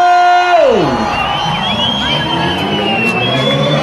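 A crowd at a live show shouts and cheers loudly after a sliding, falling tone, a dense roar of voices with whoops that carries on steadily throughout.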